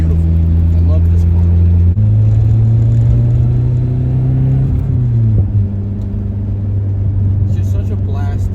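A restored Nissan S13 Type X hatchback engine runs with a steady, loud droning hum. Its pitch steps and shifts slightly partway through, and faint voices may sit underneath.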